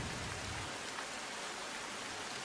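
Heavy monsoon rain pours steadily in a flooded Surat district of Gujarat, a dense, constant hiss of water with no voices.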